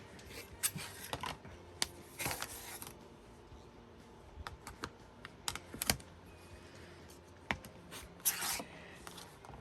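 Scissors snipping quilt block fabric, quiet intermittent cuts and rustles scattered irregularly across a hushed room.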